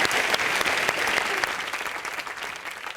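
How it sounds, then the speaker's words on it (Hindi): A studio audience at a live comedy show claps loudly and steadily for about three seconds, a dense crowd applause that thins slightly toward the end. "जोरदार तालियां।"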